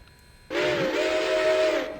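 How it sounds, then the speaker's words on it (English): A steam locomotive whistle on a Mikado engine in a railroad video game sounds one steady, breathy chord for about a second and a half, loud and close, starting suddenly and then cutting off. "The stock Mikado's whistle was kind of wimpy"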